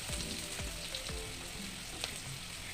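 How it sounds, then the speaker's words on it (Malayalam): Chinese potato (koorka) curry fries in a pan with a steady, soft sizzle and a few faint stirring knocks, and no voices. "കൂർക്ക മാത്രം ഇട്ട് ഒരു കറി വെക്കുകയാണ് നന്നായി മൂത്ത് വരട്ടെ"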